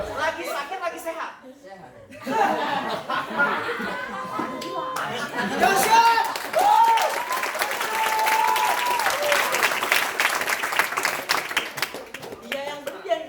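An audience claps at a marketing seminar, with scattered claps building into sustained applause mixed with chatter, chuckles and a voice speaking over it.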